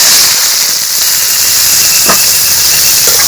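Drained jujubes tipped into hot oil tempered with panch phoron, giving a steady loud hiss and sizzle throughout with a couple of brief sharper pops near the end, no voices.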